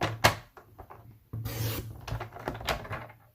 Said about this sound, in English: let's go ahead and trim this side down a little bit.